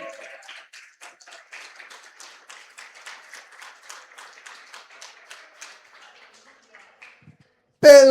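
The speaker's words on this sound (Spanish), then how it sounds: "Si va a aplaudir, aplauda bien, hermano, con todo su corazón." A church congregation claps in a steady, quick rhythm for about seven seconds at moderate volume, fading slightly before a short pause and then an abrupt loud burst of voice at the end.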